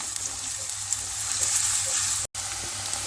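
Onions frying in hot oil in a karahi over high heat, a dense, even sizzle that hisses continuously up close, briefly cutting out for a moment before resuming, with no talking.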